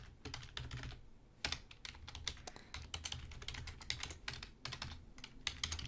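A URL being typed on a computer keyboard: a quiet, steady run of key clicks in irregular bursts with brief pauses, close by and alone.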